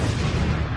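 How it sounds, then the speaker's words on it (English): An explosion sound effect played over talk radio, one dense, loud rumbling blast that fills the whole short moment with no voices over it. "I just want to play the explosion."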